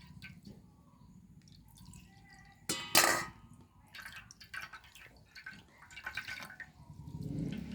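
Freshly squeezed coconut milk strained by hand, with a sharp clink near the start and then faint scattered dripping and trickling close by, quiet overall and no one speaking.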